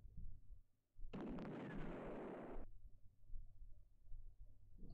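A tank firing from a distance in the Amiga wargame Kampfgruppe, heard as a single rough, noisy blast lasting about a second and a half before cutting off abruptly, with low background hum around it.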